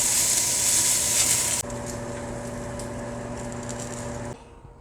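Catfish pan-frying for fish tacos, a steady close hiss of sizzling oil that drops suddenly in level partway through and cuts off near the end.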